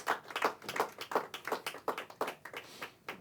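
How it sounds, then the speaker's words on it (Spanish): A church congregation claps in a steady, rhythmic beat during a worship service, sharp repeated hand claps close and fairly loud with no talking over them. "Es un aplauso al Eterno entonces."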